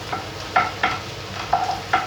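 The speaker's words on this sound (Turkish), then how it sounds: "Tavuklarımı da tavama alıyorum. Sıcak tavaya koyuyorum." Chicken sizzles steadily in a hot pan while a utensil scrapes and taps against it several times in an uneven rhythm.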